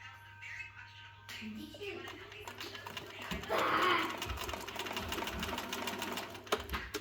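A Bernina 910 mechanical sewing machine runs its bobbin winder, a steady close whirring hum that starts after a quiet moment and continues with a light rattling texture.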